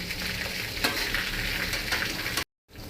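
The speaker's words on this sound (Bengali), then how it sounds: "আজকে কিন্তু আমি সরষার তেলে ভাজছি" Chicken frying in mustard oil, a steady dense sizzle held close and loud for over two seconds, with a brief stir and then a sudden cut to silence before the sizzle returns faintly.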